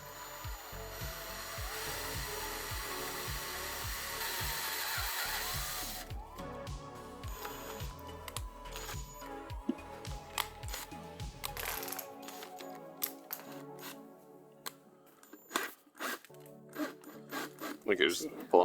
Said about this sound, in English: we're just kind of like pulling out with the drill some of the insulation that's in there